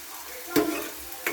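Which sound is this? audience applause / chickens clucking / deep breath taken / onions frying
onions frying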